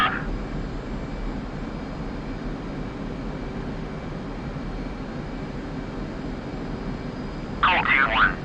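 Steady, loud roar of a simulated aircraft engine during takeoff in the DCS flight simulator, holding constant throughout, with a brief burst of radio voice near the start and again at the end.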